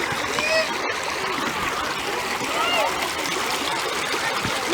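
Water splashing and trickling at a park pond where fish and ducks swim, a steady close wash of sound with a voice chattering faintly over it.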